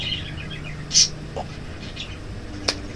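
Outdoor birds give a few brief, sharp chirps and tweets, moderately near, over a steady low background hum.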